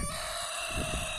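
A rooster crows loudly nearby, a sustained call with faint clucking from fowl underneath and no speech.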